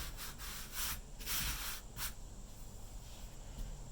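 Sandpaper is rubbed over cured Great Stuff spray foam during a cargo trailer conversion, making quiet close rhythmic scratchy strokes in a few bursts, with no talking.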